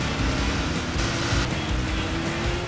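A Chevrolet Camaro engine in the racing game Sega GT 2002 drones loud and steady throughout, a continuous mechanical roar with no talk over it.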